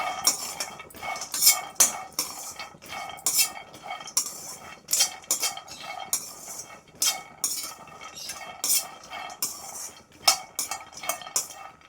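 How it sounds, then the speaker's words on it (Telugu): Peanuts roasting in a pan, stirred with a spatula that scrapes and clinks against the metal in a quick, irregular rhythm of sharp taps, close and fairly loud, with no voices. "నెక్స్ట్ చూడండి, పల్లీలు వేయించుకోవాలండి."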